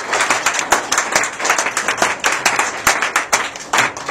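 Congregation at a Pentecostal church service clapping in a fast steady rhythm, loud and close with many hands together, a faint voice underneath.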